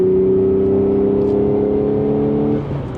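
A 2016 Audi S5 with a manual gearbox and stage 3 clutch powering out of a corner, its engine holding a loud, steady droning note from inside the cabin before the pitch eases and drops near the end.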